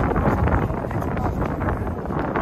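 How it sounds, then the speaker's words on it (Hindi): Cool wind blows steadily outdoors on a pleasant-weather day, a loud, continuous broadband rush buffeting the microphone throughout with no clear pauses. "हवा ठंडी हवा चलती है,"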